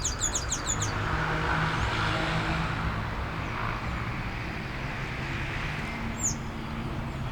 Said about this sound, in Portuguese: Eu gosto de ver os passarinhos.